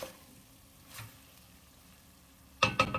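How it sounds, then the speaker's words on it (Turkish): Kavurma meat simmers in an uncovered pot as its water boils off, a faint soft bubbling that gives way near the end to brief louder sizzling and stirring clatter; no talking. "Tencerenin kapağını kapatmadan su iyice buharlaşana kadar pişirmeye"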